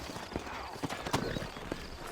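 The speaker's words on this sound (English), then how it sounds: "You ain't gonna find sturdier horses than these in all of New Ulster." Sturdy horses clip-clopping on a town street in a Western setting, a steady run of hoof strikes close by with faint background ambience.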